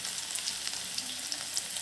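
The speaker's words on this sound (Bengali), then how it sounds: "পেঁয়াজ, মরিচ, টমেটো কুচি এখন আমরা তেলে দিয়ে দিচ্ছি" Chopped onion, chili and tomato hit hot oil for a steady, close hiss of frying. The broadband crackle holds evenly throughout with no voices.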